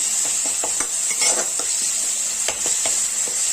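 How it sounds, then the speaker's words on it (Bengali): Ground cumin, coriander, chili and turmeric frying with tomato in a pan for a fish chorchori, giving a steady, close sizzle broken by light, irregular scrapes and clicks of a spoon stirring against the metal. "জিরার গুঁড়ো, ধনিয়ার গুঁড়ো, লঙ্কার গুঁড়ো, হলুদ দিয়ে কিন্তু ভালো মতো ভেজে নিচ্ছি টমেটো দিয়ে"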